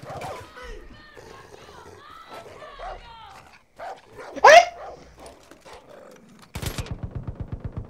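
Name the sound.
dog barking and attacking in video game Far Cry 5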